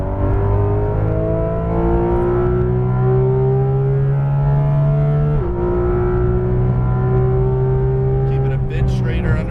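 A Porsche 991.2 GT3 RS at full throttle on a racetrack, pulling hard out of a corner apex. Its engine note climbs steadily and loudly, briefly dips at a gear change midway, then climbs again, with a voice talking over it.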